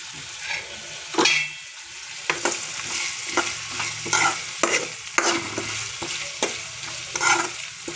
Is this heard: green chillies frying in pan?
yes